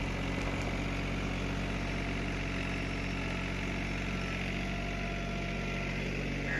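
A Swaraj Target 630 29 hp mini tractor with a Yanmar engine idles close by, a steady, even diesel drone with constant low rumble and vibration throughout, no talking.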